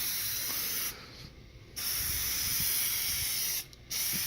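An aerosol can sprays Plasti Dip glossifier onto a car hood in steady hissing bursts, with a long spray broken by two short pauses, close and clear with no talking.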